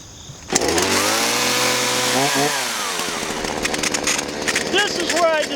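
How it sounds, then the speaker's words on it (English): A chainsaw roars up close and revs steadily as it bites into a steel-toe shoe, its pitch sagging and climbing with the load, loud and continuous throughout. "And a chainsaw."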